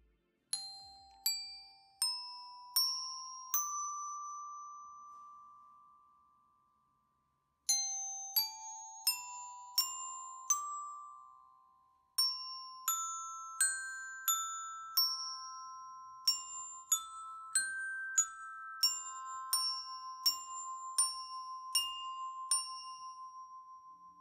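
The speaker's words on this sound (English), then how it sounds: "the difference between the bell set made by Ludwig that came in a percussion starter package and the mini bell kit" Orchestral bells from a Ludwig percussion starter set and a Lions mini bell kit ring out as separate struck notes, each with a clear, bright tone and long decay. They are played in short rising runs and later denser patterns, with no other sound.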